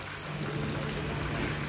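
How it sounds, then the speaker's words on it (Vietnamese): Heavy rain pours down steadily in Vietnam's western region during an outdoor stage setup, a dense, unbroken roar of drops that holds loud and constant from start to finish with no speech. "Hiện tại là trời mưa đó"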